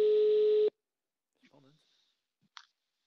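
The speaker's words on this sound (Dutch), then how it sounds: "oh, daar gaan we. Telefoon." A telephone gives one short, loud electronic ring tone, then silence broken by a few faint, brief words.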